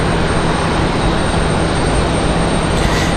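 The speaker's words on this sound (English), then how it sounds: "Mesa Airlines is going to be our next arrival. It's going to be that United Express." Mesa Airlines United Express plane arriving at RDU (Raleigh-Durham) airport, a loud, steady, broad engine roar that holds evenly throughout without talk.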